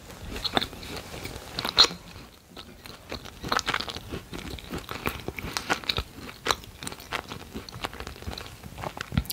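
Crunchy macarons being bitten and chewed up close in an ASMR tasting, with dense crackly crunches and chewing throughout, alone and without talk.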